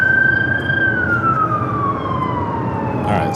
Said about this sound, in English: That is the loudest ambulance I think